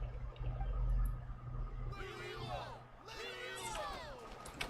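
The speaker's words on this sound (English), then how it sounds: "Hear that? The exhilarating cheers of the crowd." A game crowd in Genshin Impact roars and cheers in the distance, a steady muffled hubbub under a character's spoken lines.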